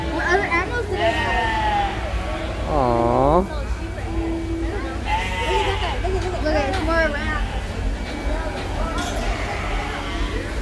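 Sheep and lambs at a farm animal pen bleat repeatedly, with one loud nearby bleat in the middle and several fainter calls around it, while visitors chat and murmur throughout.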